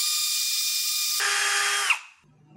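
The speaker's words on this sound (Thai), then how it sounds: "แล้วก็เอาลงมาที่เดิมนะให้เจาะหนึ่งตัวก่อนนะครับ" A power drill bores a hole through a plastic motorcycle top box being repaired, a steady high whine running close and loud, then the motor dropping in pitch as the bit bites before cutting off into quiet.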